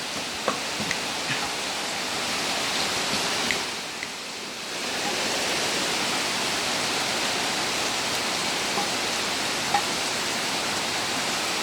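Steady, dense broadband hiss of heavy rain falling continuously, with a brief dip in intensity partway through and occasional faint clicks.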